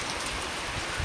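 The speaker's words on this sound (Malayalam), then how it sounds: "ഇപ്പോൾ നല്ല മഴയാണ് ഇവിടെ നമ്മുടെ ഐലൻഡിൽ" Rain falls on an island, making a steady, soft hiss of drops across the whole moment, faint and even with no voices.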